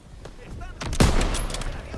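An artillery strike in a first-person shooter match lands as a heavy, booming blast among scattered gunfire. The impact is loud and close, and a voice speaks faintly underneath.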